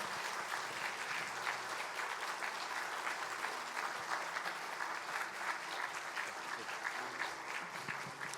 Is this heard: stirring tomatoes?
no